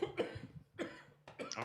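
Several throaty coughs in quick bursts, close and fairly loud, separated by short pauses, with no speech around them.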